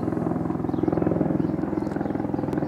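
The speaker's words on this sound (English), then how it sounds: "You notice there's always helicopters flying overhead" Helicopter flying overhead north of Garthdee, a steady low rotor thrum with rhythmic blade chop, continuous and fairly loud throughout.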